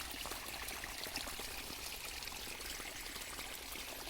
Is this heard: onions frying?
no